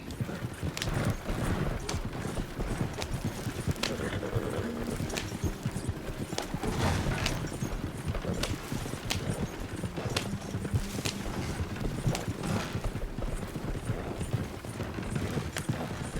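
Horse hooves clip-clop in Red Dead Redemption II, a steady rhythmic trotting of a couple of horses with close, crisp hoofbeats, an occasional faint whinny and little talk.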